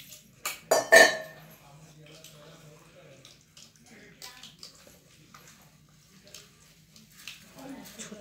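A spoon clatters against a metal vessel while malpua batter is stirred. A few loud clinks come first, then softer intermittent scraping and sloshing, with someone talking over it.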